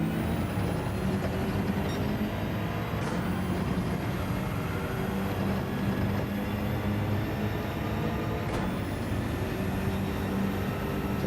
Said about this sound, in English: We're already bouncing off the rev limiter.